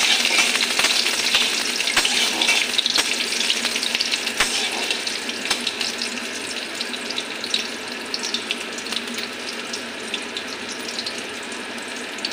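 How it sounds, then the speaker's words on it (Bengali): Chopped onion fries in a pan with bay leaf and whole cumin, giving a loud, dense, continuous sizzle close up, with occasional sharp ticks of a utensil and no voices. "পেঁয়াজটা একটু হালকা করে ভাজা করে নিই।"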